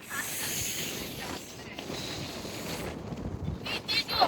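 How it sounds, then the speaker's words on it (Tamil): Strong, cold wind buffeting the microphone in a steady broadband rush with surging gusts that swell louder toward the end; no voices are heard. "இந்த காற்றடிக்கிற சவுண்டு கேட்டாலே தெரியும் உங்களுக்கு எந்த அளவுக்கு இது வேகமாக அடிக்குதுன்னு"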